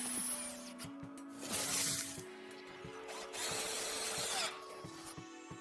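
A power drill drives screws into a privacy strip on a double bar mesh fence, whirring loudly in several bursts with brief pauses as the motor speeds up and slows.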